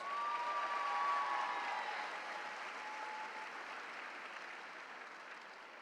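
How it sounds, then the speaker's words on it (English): Applause from a commencement ceremony crowd at Bryant & Stratton College in Western New York: a faint, distant wash of clapping that swells in the first second or two, then settles into a softer, even patter, with a brief thin whistle-like tone early on. "Please join me in giving one more round of applause."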